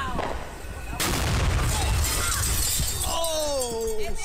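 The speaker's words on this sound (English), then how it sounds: "Did you hear all the glass break?" A firework blast goes off right beside a house, with a sudden sharp crack followed by a spray of breaking glass and rattling debris, then whistling streaks trailing away.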